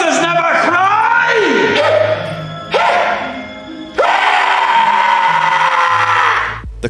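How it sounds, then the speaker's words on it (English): Harsh, strained screams and bellowing roars from a man turned into a walrus-like creature, Wallace in the horror film Tusk, come in long loud bursts that rise, waver and break off, close and overpowering. "only able to communicate through muffled screams and roars akin to the noises real walruses make"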